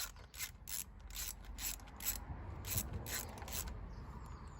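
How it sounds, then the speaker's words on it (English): A ratchet clicks in quick, rhythmic bursts as it tightens valve cover bolts on a BMW E90 318i, the close metallic pawl ticks standing out clearly over a low background rumble. "Torque it evenly because it's a gasket surface."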